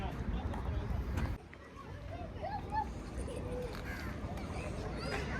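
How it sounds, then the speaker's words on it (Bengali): House crows caw a few times near a lake in Dammam, Saudi Arabia, the calls moderately distant and mixed into outdoor crowd hubbub and people talking. "দেখেন এখানে আমাদের দেশি যে কাক, সেই কাকের ডাক শোনা যায় এখানে আসলে পর।"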